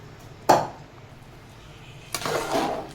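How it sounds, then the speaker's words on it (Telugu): Washed rice going into a pot of boiling water: a sharp metallic clink first, then after a pause a longer splashing pour that spreads and settles, close by in a home kitchen. "ఇప్పుడు కడిగి పెట్టుకున్న రైస్ని వేసుకుందాం"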